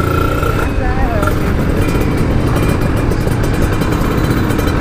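A Kawasaki Ninja RR two-stroke motorcycle engine revs loud and close throughout, with a constant dense roar and no breaks.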